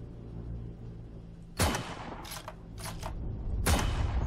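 Distant gunfire in the video game Heroes & Generals, during long-range shooting at moving targets: a few sharp cracks and short bursts with trailing echoes over a steady low background hum.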